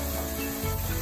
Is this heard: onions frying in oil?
yes